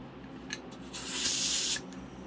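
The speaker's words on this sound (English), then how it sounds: "it's just now starting to blow air out of the nozzle" An air compressor nozzle releases a short hissing blast of air that builds and cuts off after about a second, close and fairly loud over a low steady hum.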